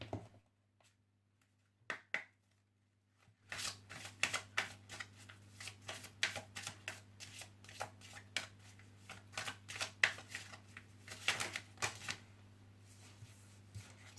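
Tarot cards are shuffled and drawn by hand, with a few soft isolated flicks followed by a longer stretch of brisk riffling and slapping close by, faint and quiet overall.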